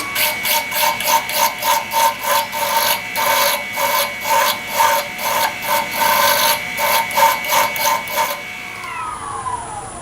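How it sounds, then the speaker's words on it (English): Mill bastard file rasping metal on a homemade ornament hollowing tool, about a dozen rhythmic, steady scraping strokes close up, then a brief pause and a faint ringing tail at the end. "This is where I'm going to go to the standard mill bastard file."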